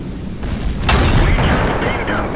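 An enemy tank's main cannon fires in World of Tanks, a single deep boom with a lingering rumble, loud and close, while someone talks over it.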